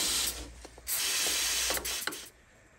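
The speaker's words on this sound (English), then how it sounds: "So I spray a little bit of carb cleaner there." Short bursts of carb cleaner hiss from an aerosol can onto a sticking valve of a 26 HP Briggs and Stratton engine. Two main sprays come with small clicks and mechanical taps between them, close and fairly quiet.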